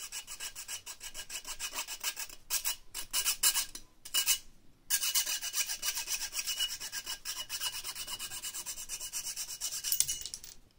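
A hand saw cutting through aluminium tubing for an exhaust tip, with steady rapid back-and-forth rasping strokes, close and fairly loud, broken by a couple of short pauses.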